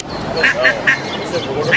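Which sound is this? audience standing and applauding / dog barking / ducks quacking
ducks quacking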